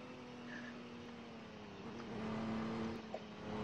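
A car speeding up in Roblox ERLC, a fairly quiet, steady engine hum that rises slightly in pitch as it accelerates, heard alone.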